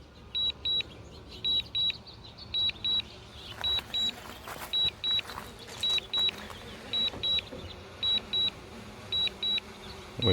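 A Mavic Air 2 drone flies back to land at sunrise near power lines and cell towers; a thin insect-like motor whine runs throughout, overlaid by regular pairs of high electronic beeps repeating steadily.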